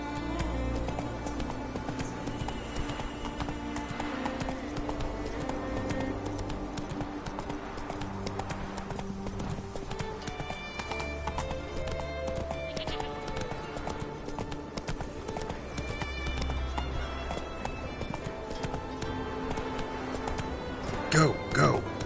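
Roach, the horse in The Witcher 3, gallops with steady, continuous hoof clip-clop at a fast rhythm, with occasional snorts, under game music and a voice talking over it.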